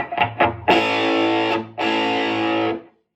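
A distorted electric guitar rings out loud and close: a couple of quick picked hits, then two long sustained gritty chords.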